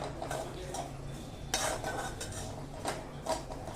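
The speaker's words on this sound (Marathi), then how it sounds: "तर पहिल्यांदा आपण खोबरं भाजून घेऊया। खोबरं भाजून घ्यायचं छान।" Grated coconut being dry-roasted in a pan for a restaurant-style mixed vegetable curry, with steady scraping and clinking of a spatula against the metal pan in repeated stirring strokes, close and moderately loud, with no talking.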